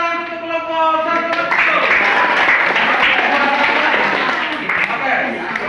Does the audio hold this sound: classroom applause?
yes